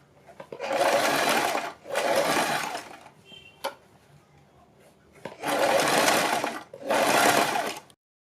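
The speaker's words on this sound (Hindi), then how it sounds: "हम बिल्कुल बराबर बराबर में इसको इस तरह से सीलते जाएंगे" An electric sewing machine stitches a high neck collar in four loud, steady whirring bursts of about a second each, separated by short pauses with faint handling clicks.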